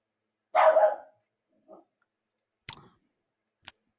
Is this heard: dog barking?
yes